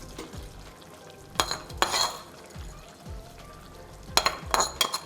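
Onions, green chilli and curry leaves frying in a pan for a pomfret fish curry, a low steady sizzle broken by a few clinks and stirring scrapes.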